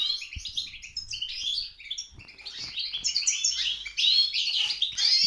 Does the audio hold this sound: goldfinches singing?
yes